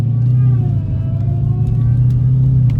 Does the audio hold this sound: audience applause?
no